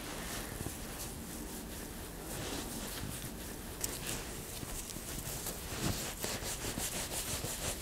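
An exfoliating scrub rubbed over a person's hands during a hand spa, close, soft rough scratching strokes that continue steadily and grow a little busier toward the end, with no talk.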